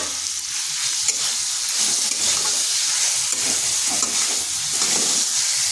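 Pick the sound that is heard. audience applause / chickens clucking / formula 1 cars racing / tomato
tomato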